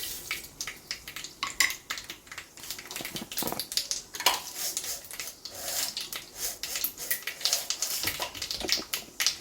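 Mustard seeds dropped into hot oil in a curry pot, close dense crackling and sizzling with sharp popping bursts and faint utensil clinks throughout.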